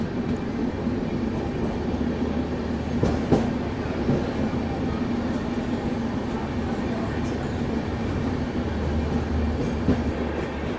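An Indian express train rumbles steadily alongside at Mathura while another train passes, heard from inside a Rajdhani Express first-class coach, a continuous close rolling drone with faint rail clatter and no break.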